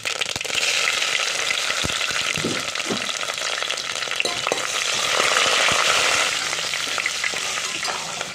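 Green chilies and curry leaves crackle and sizzle in hot oil with mustard seeds, a tempering for Gujarati sweet-and-sour tuvar dal. The sizzle is loud, steady and close, with sharp popping crackles throughout and no talking.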